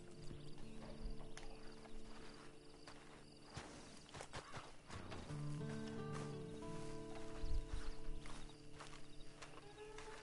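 Horse hoofbeats in the video game Red Dead Redemption Online, a steady clip-clop of a walking horse with a brief whinny, set against faint background ambience and soft game music.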